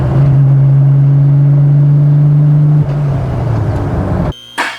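Nissan GTR engine pulling hard under acceleration, a loud steady drone that shifts pitch around a gear change into third, then cuts off briefly near the end before a short burst of sound.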